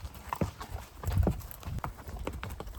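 Hooves of pack horses clip-clop unevenly over ground on a multi-day horseback pack trip, a steady stream of close, moderately loud thuds with scattered rustling.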